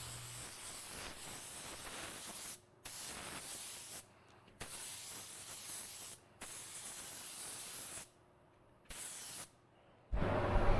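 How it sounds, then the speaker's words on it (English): Close, loud hiss of a spray gun laying automotive base coat paint onto a car hood panel, in several sustained bursts separated by short pauses, with no talk. "make sure you're applying your base coat wet enough that it's a smooth finish"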